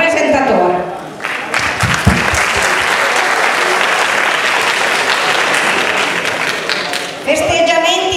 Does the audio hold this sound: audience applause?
yes